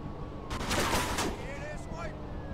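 Gunfire in a Mafia II shootout, a burst of several sharp shots over a steady background roar, with a voice talking over part of it.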